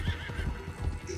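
A horse neighs and whinnies in Red Dead Redemption 2, its hooves clip-clopping as it moves, close and fairly loud with no talking.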